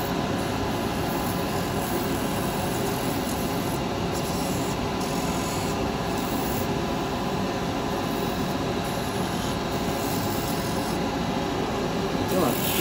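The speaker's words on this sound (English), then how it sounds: "I'm going to brighten it with a bit of sandpaper." Steady, continuous rasping of sandpaper against wood turning on a lathe, with a constant motor hum underneath throughout.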